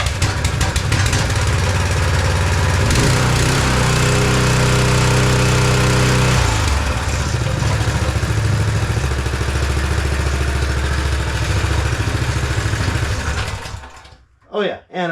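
A small engine, freshly serviced with an oil change and new spark plug, bolted to a frame and driving a pump from an old washer, runs loud and steady with a rough, clattering drone, then cuts out near the end.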